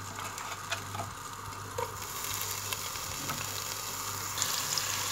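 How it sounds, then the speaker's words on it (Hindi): A medium onion, sliced, fries in half a cup of oil in a deep pot, giving a steady close sizzle with a few soft stirring knocks and no talking. "प्याज को हम सुनहरा गोल्डन ब्राउन होने तक फ्राई करेंगे।"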